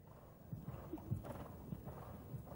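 Horse galloping on a show jumping training ground, its hoofbeats a soft, rhythmic run of muffled thuds, fairly faint, over a couple of seconds.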